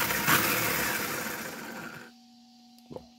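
An Rlaarlo XDKJ-006 RC car motor accelerates with a loud, close whirring rush for about two seconds, then cuts off into near silence broken by a brief click.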